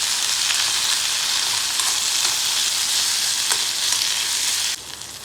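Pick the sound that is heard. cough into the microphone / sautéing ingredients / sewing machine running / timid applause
sautéing ingredients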